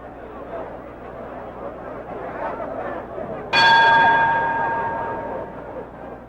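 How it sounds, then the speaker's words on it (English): A boxing ring bell clangs once to end the third round of a world featherweight title fight, its sharp ringing tone sustaining and slowly fading over a steady crowd murmur. "at the bell announcing the end of the third round"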